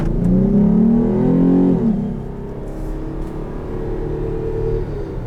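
2021 Dodge Durango GT with a 3.6 Pentastar V6 and K&N intake accelerating, a loud, close engine note climbing in pitch for a couple of seconds before easing back into a steady, lower drone.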